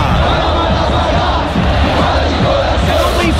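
A football crowd in a stadium sends up a dense, continuous roar of shouting and chanting, loud and unbroken throughout.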